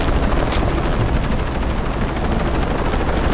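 Loud, steady rotor roar of a helicopter in the video game Shadow of the Tomb Raider fills the scene, with dense rumbling noise throughout and a brief sharp burst near the start.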